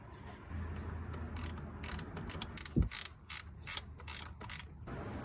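A ratchet wrench tightens the bolts of a Honda Accord automatic transmission filter, giving short bursts of rapid clicking that repeat in a stop-start rhythm. The clicks are close and moderately loud, and no one speaks.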